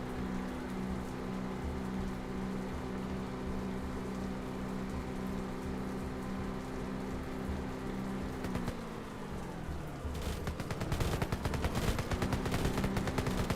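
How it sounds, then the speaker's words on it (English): Autocannon fire in the real-time tactical shooter Red Solstice 2, set on Mars. A steady droning hum gives way late in the clip to loud, dense, rapid bursts of shots with no talking. "They're doing no damage with the autocannon."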